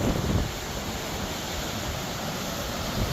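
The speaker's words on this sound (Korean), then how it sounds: "작은 폭포가 있고 와 바람이 뭐 엄청나게 붑니다" Strong wind gusting beside a small artificial waterfall in autumn, a loud continuous broadband roar of air and falling water with no voices.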